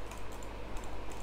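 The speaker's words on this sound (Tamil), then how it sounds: "ஏதோ ஒன்று இப்படி டைப் பண்ணுறேன்னு" Quick, light keystrokes on a computer keyboard while values are entered into an Excel spreadsheet, a steady run of soft clicks close by with no talking.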